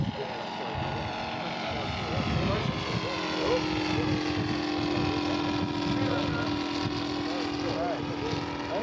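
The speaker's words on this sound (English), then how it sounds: "coming in with his Robart-powered PT-23" A scale model PT-23 aircraft with Robart power flies past at an airshow, its engine droning steadily with a rising and falling pitch throughout, moderately loud and continuous.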